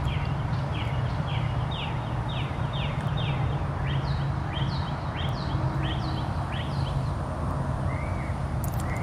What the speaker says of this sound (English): I never hear birds chirping this late at night.